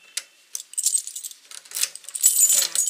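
A bunch of house keys jangles and clinks in short, bright metallic bursts, close by and alone, growing busier toward the end.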